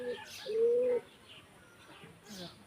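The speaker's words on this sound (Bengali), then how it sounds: "এখানে আমার কবুতর আছে, কিছু কবুতর, আরো কবুতর আমি নিয়ে আসবো।" Pigeons kept on a garden farm coo softly nearby, a few low rounded calls with a brief chirp, otherwise quiet.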